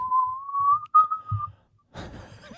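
A single person whistles a wavering, sustained tune for about a second and a half, then a burst of clattering noise follows.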